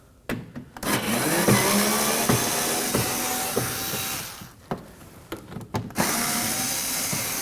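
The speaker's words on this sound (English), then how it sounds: "Now we're going to remove these 3 Phillips screws using" Phillips screws being removed from an Acura MDX with a power driver, a steady close whirring drone with short pauses and clicks as the tool stops and restarts.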